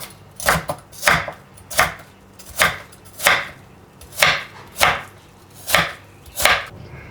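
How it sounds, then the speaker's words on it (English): A knife chopping half an onion on a board, nine or so crisp, evenly spaced thuds in a steady rhythm, close and clear with no talking. "Here is half an onion that I'll cut into smaller pieces."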